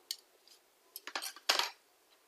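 Metal cutlery clinks and rattles in a few short, light bursts, close by in a quiet room.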